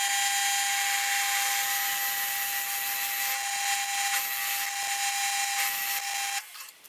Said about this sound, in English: bore a 3/4 inch hole in the top of the lid that will be the mortise for the finial